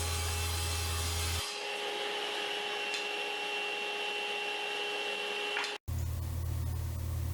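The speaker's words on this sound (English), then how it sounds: "Next, I'm going to start ripping my stock to 3 inches wide in preparation for flattening one face on the jointing." A saw rips wooden stock to three inches wide for an end grain cutting board, a steady loud whining drone that changes tone abruptly early on and cuts out briefly near the end.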